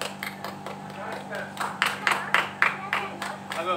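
A small group claps in a string of sharp, fairly regular bursts during a family Bhogi festival celebration at home, with voices talking over and between the claps.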